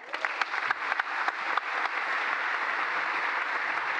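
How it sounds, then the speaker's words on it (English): Applause at a graduation ceremony, starting with a few sharp individual claps and swelling into a steady, dense wash of clapping from the gathered crowd. "could I please ask for a big round of applause as we welcome the first"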